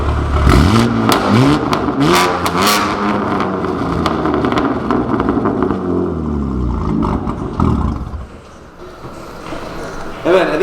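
BMW G80 with an IRL LLC exhaust and its valves open in sport mode, revving loudly up close in repeated rising and falling pulls, with a brief dip near the end before it picks up again.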